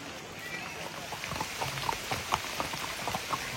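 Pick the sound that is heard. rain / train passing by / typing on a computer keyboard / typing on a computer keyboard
rain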